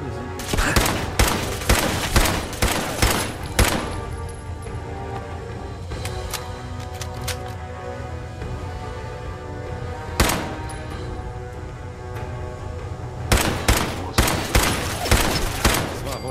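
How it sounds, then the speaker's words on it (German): Gunfire in Fallout 4 comes in repeated volleys of sharp shots, clustered early, then sparse single cracks and another burst near the end, with voices talking in between. "Wer ist da geschossen?"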